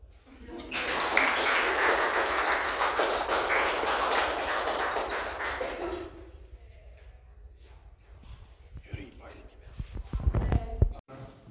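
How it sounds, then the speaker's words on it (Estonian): Audience applause at a spring art exhibition opening, a dense burst of clapping lasting about five seconds, then fading into quieter room noise with scattered thumps and movement. "Aplaus."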